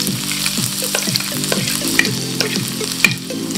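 Garlic sizzles loudly in hot oil in a pan for shrimp masala, a steady crackling fry broken by stirring scrapes and a few sharp clinks, close and with no voices.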